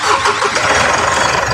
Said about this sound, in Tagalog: So papandarin lang natin yung makina